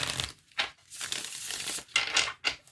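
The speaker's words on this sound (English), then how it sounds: "I think what I'm going to do is shuffle the tarot," A deck of tarot cards is shuffled close up, giving several short papery riffling and crinkling bursts with brief gaps between them.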